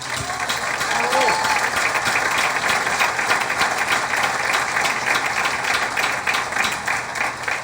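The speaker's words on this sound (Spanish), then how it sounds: "Un aplauso para Gustavo." Steady applause from a large crowd fills the whole stretch, dense and continuous, with a faint whistle near the start.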